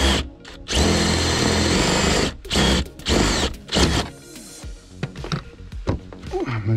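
A power drill, hammer mode off, whirs in several sustained bursts, loud and close, stopping and starting as it bores an 18mm hole, then lighter handling clatter follows.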